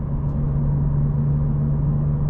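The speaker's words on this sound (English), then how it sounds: "So I'm going to shift from sixth straight into fourth gear." Steady low engine drone of a 2025 Honda Civic Si with manual transmission, downshifting from sixth to fourth gear, a continuous even rumble heard from inside the car with no talk.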